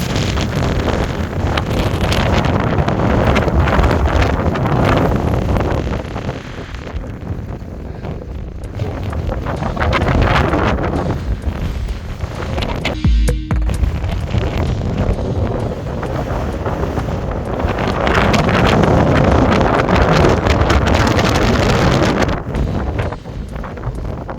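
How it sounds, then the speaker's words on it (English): Strong, continuous wind roars and buffets the microphone on the exposed summit of Mayar, Glen Doll, Scotland, rising and falling in loud gusts with no voices. "very windy"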